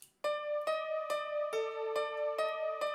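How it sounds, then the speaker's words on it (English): A Purity "first impression" piano preset played dry with no effects, giving seven clear, evenly spaced struck notes that ring out cleanly and close, with one small pitch change midway. "It's the first impression piano, and it would sound like this without any effects."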